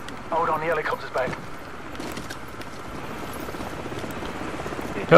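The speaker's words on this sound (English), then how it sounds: "Hold on, the helicopter's back." A helicopter in the video game Call of Duty 4: Modern Warfare gives a dense, rumbling rotor roar that stays loud through the whole stretch, mixed with crackling game noise and a sharper burst at the very end.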